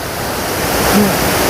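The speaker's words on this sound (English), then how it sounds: "there's a lot of breeze just coming off from this waterfall" Waterfall on the Appalachian Trail, a loud, steady broadband roar of rushing water heard up close, unbroken for the whole moment with no talk.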